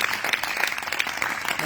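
A church congregation at an all-night prayer gathering clapping in praise, a dense continuous patter of hands filling the room for a short stretch.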